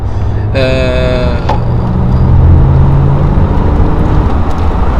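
A car engine with 800 Nm of torque roars loudly and steadily as it accelerates hard, with a brief rising whine at the start and constant road and wind noise throughout.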